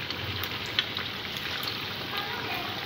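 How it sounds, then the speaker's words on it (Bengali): Sweets (mishti) frying one by one in moderately hot oil, a steady close sizzle with fine crackling running throughout, no voices. "তেলটা গরম হয়ে গেছে, এরপরে দিয়ে দিচ্ছি আমি একে একে মিষ্টিগুলো"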